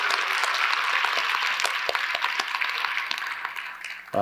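A Korean church congregation bursts into loud, full applause during a Sunday service, a dense steady roar of many hands that holds evenly and then cuts off abruptly at the end.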